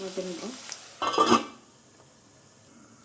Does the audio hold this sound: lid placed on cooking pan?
yes